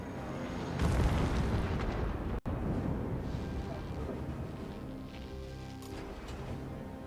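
Rumbling explosions from a bombing campaign in the strategy game Civilization 7 roll on continuously and fairly loudly, with a broad booming wash that fades slightly toward the end.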